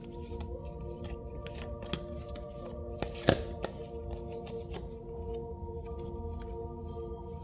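Tarot and twin-flame oracle cards are handled at a table, with soft papery shuffles, flicks and light snaps scattered over several seconds and one louder slap near the middle, close and quiet, no speech.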